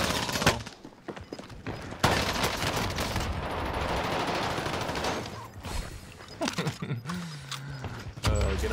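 Rapid gunfire bursts in the Rebirth Island video game, loud and close, with dense automatic volleys and scattered single shots, then mechanical clicks and a few more shots near the end.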